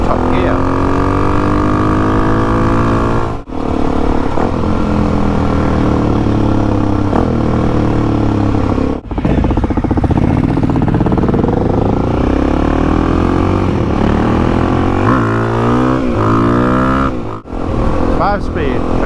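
A Suzuki DRZ400e motorcycle engine drones loud and close while riding in top gear of its five-speed box, a steady throaty hum rising and falling with throttle, with brief dips at gear changes and the rider talking over it.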